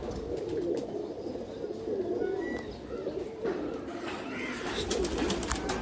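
A female teddy pigeon recently brought from Pakistan coos in low, rolling calls amid a busy loft background of faint chirps and rustling.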